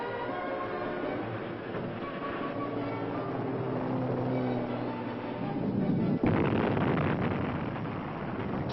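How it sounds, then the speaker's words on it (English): Rock blasting in the canyon during Hoover Dam construction: deep, rolling booms and rumble, with a sharp, louder blast near the end and a heavy roar after it. "Explosions rocked the canyon almost daily for 2 years before actual placing of concrete in the dam began."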